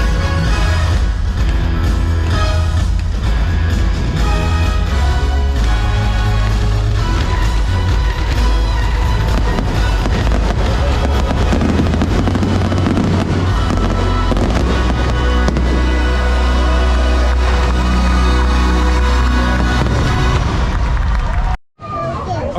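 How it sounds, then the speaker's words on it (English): Fireworks boom and crackle continuously over a murmuring crowd at SeaWorld Orlando, a long, loud barrage with deep thuds and bursts that suddenly cuts off near the end. "fireworks show was fan-freaking-tastic"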